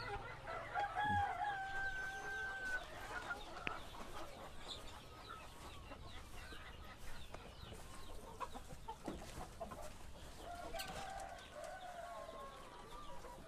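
KUB chickens, young future breeding hens at a poultry seller's farm, crow clearly early on and keep up scattered clucking and calls over a busy, fairly quiet farmyard background.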